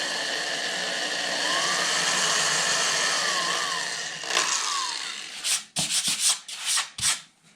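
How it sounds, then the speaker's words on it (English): Hand drilling a hole in acoustic guitar wood, a continuous scraping, rubbing whir for about four seconds, then a run of short irregular bursts of grinding and knocking as the drill works and stops. "So I'm drilling it by hand"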